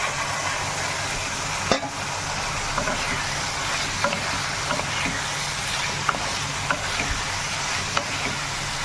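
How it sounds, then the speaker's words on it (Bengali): Potato and capsicum pieces sizzle steadily in a pan with ground spice paste, a continuous broadband frying hiss broken by occasional sharp clicks and scrapes of stirring. "এবার এই সবজি ভাজাগুলো দিয়ে দেবো।"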